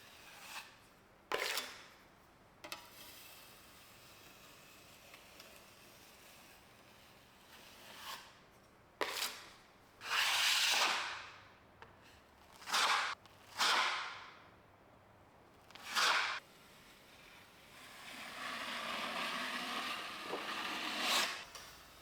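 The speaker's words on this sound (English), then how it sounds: "you just kind of want to go through and scrape all the excess off" A putty knife scrapes excess drywall joint compound off a wall in short, separate, close rasping strokes, with quiet pauses between them and one longer scrape near the end.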